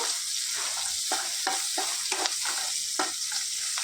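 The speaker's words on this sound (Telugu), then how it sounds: "మెంతి కూర కూడా వేసుకొని వేయించుకోవాలి" Onions and fenugreek leaves fry in a pan for a flat bean curry, a continuous bright sizzle broken by regular scraping strokes of a spoon, close and steady.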